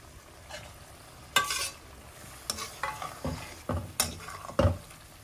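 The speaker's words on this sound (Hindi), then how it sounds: "इसमें अब ये हम सारा अंडा डाल देंगे।" Eggs are stirred into frying masala in a pan for an egg curry, with a soft sizzle under several distinct scraping and clattering stirs. The sound is close and unaccompanied by voices.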